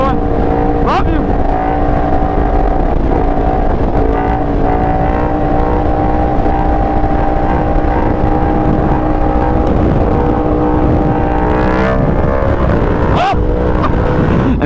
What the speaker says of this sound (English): I'm doing a wheelie right now.